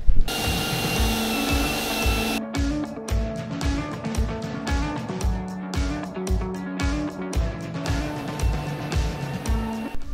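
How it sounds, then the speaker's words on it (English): Steady, rhythmic scraping of sanding on a Honda CR500 part, close and fairly loud, with repeated back-and-forth strokes and a continuous machine hum beneath. "more sanding."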